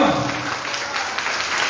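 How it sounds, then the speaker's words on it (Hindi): Applause for the couple at a wedding celebration, a dense wash of clapping from a crowd that carries on steadily at moderate loudness, with some voices faintly mixed in. "एक और जोड़ी के लिए जोरदार तालियां होनी चाहिए।"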